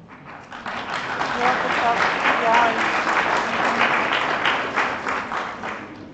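An audience at a student pharmacy congress claps after a motion is carried unanimously, a swelling mass of applause that holds steady and tapers off, with some voices mixed in beneath.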